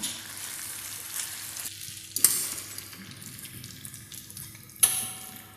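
Mushrooms sizzle steadily in a frying pan while being cooked for a tartiflette, a continuous close hiss with two sharp clinks of the utensil against the pan.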